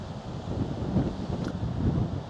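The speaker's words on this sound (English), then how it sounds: "the wind nearly keeps taking my hat" Steady wind gusting on a beach, a constant rough rumble of wind buffeting the microphone with no other sounds and no talking.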